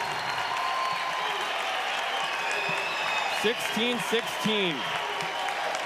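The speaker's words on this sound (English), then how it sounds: "And the crowd's going nuts." A large crowd at a men's college volleyball match between Hawaii and BYU roars and applauds continuously in a dense, loud wash, while a commentator speaks over it.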